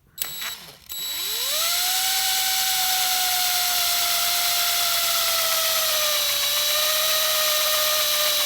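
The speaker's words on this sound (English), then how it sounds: "you gotta drill holes in your thermostat" An electric drill fitted with a 1/8 inch bit bores into a car thermostat during a C3 Corvette electric water pump install, spinning up from a short rattle into a loud, steady high whine that dips slightly near the end.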